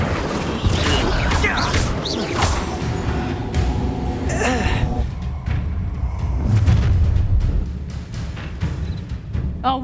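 Incendio fire spell cast in the video game Hogwarts Legacy, a burst of whooshing flame and booming impacts that crackles and rumbles through the stretch, with a voice briefly audible amid the combat noise.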